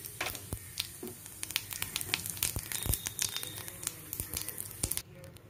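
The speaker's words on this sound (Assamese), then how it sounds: "এয়া মই তেল গৰম হোৱাত গোটা জিৰা দিলো।" Whole cumin seeds sizzling in hot oil in a wok, a steady crackling fry dotted with sharp pops and spits, close and continuous before it drops off at the end.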